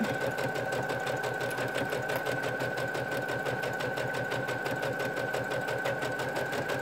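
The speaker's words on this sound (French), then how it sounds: "Et on est parti pour une couture en marche avant, normale." A sewing machine runs a normal forward stitch on fabric for a mini tote bag, a steady, even, rapid mechanical chatter, close and continuous, with no talking.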